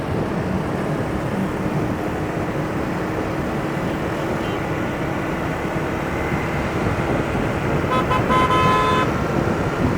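Dense street traffic on Bach Dang Street in Da Nang, Vietnam, with scooters and cars: a constant loud roar of engines, and a short burst of repeated horn honks near the end.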